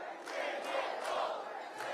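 A large political rally crowd roars and cheers in a steady, sustained wash of voices, with a few louder surges of shouting rising through the din.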